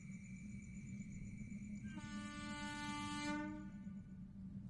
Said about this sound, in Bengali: স্টেশনে ট্রেন যখন ঢুকল তখন প্রায় 12:30 বাজে। দানবীয় গর্জনে প্ল্যাটফর্ম কাঁপিয়ে লোহার চাকাগুলোর ঘর্ষণে